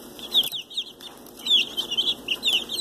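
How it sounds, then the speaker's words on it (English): Öland dwarf chickens (Olandsk Dwarf breed) cluck and chatter close by in short bursts, with a brief flutter of wings, no talking. "These are my rare Olandsk"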